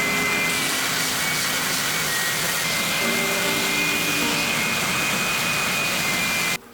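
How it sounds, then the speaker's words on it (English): A belt sander refines a curved wooden workpiece, giving off a steady, loud motor whine and abrasive roar that runs unbroken for several seconds before cutting off abruptly at the end. "I then refined the curve with a belt sander."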